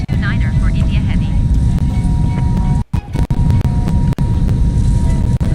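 Loud, continuous roar of an airliner on its takeoff run in a flight simulator game, with brief dropouts and voices talking over the engine noise.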